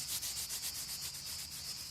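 Hand sanding of a Tofaş headlight eyebrow: a close, steady rasp of abrasive paper stroking back and forth in an even, repeated rhythm with no pauses.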